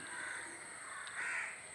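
A crow caws faintly in the distance, a couple of hoarse calls in a quiet village setting with a steady background hiss.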